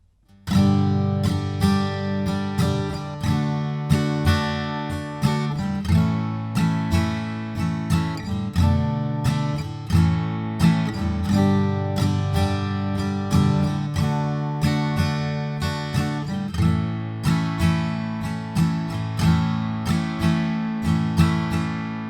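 Acoustic guitar strummed without a pick through the pre-chorus chords of a song, rhythmic finger-raked strokes ringing out continuously and up close, no voices.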